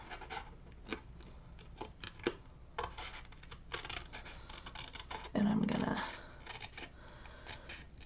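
A craft knife trims off a piece with quiet, close scratchy strokes and small cutting sounds while a person talks over it.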